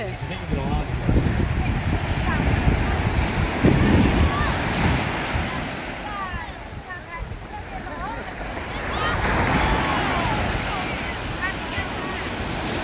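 Strong surf rolls and crashes steadily along Songjeong Beach in Busan, a surfing beach, while wind buffets the microphone, with indistinct voices somewhere in the mix.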